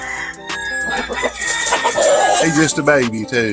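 A young claret gamefowl stag on a Georgia farm crows and clucks close by, with other fowl calling around it, while someone talks over the birds.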